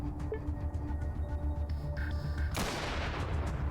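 AK rifle fire in the video game Atom RPG: a low rumbling game backdrop with faint tones, then a sharp loud blast near the end that rings out and decays.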